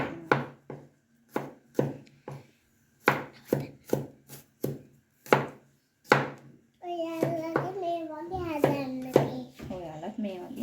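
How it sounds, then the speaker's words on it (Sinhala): Knife chopping garlic on a board in a home kitchen: a steady series of sharp, close chops with short pauses, then someone talks over a few more chops. "දැන් සුදු ලුණු ටික කපනවා."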